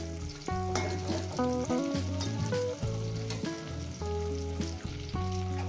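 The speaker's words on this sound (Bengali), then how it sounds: "একদম সফট টমেটোটাকে ভেজে নেব নরম করে কাঁচা লঙ্কা রসুন টমেটো সব কিছু নরম হয়ে যাবে" Tomato, green chili and garlic fry in a pan for a tomato and eggplant mash, a continuous sizzle partly masked by prominent background music.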